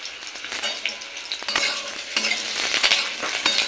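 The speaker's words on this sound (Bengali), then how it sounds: "তো আমি সবজিগুলো প্রথমে হালকা একটু ভেজে নেব।" Potatoes and mixed vegetables lightly frying in oil for a bori vegetable curry, a bright crackling sizzle with stirring scrapes and a few utensil clinks close by.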